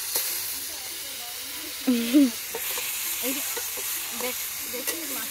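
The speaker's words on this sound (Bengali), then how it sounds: "আমাদের এখন কাঠমাগুর মাছ ভাজা চলছে" Walking catfish (kathmagur) pieces fry in a pan with a steady, soft hiss of hot oil throughout, while a voice briefly speaks over it partway through.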